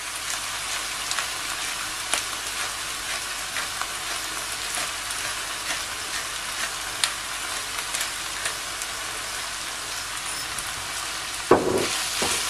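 Orzo sautéing in a pan with other ingredients gives a steady, even sizzle throughout, with a louder stirring scrape near the end.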